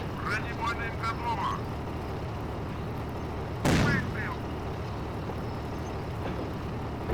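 A tank main gun fires once in Steel Fury, a sharp heavy blast standing out above a steady engine rumble, while someone talks before and after the shot.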